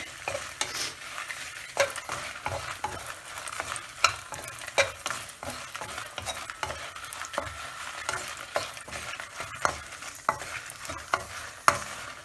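Coriander thokku is sautéed and stirred in a pan over a low flame, giving a soft continuous sizzle broken by repeated spatula scrapes and taps throughout, close up, with no talking.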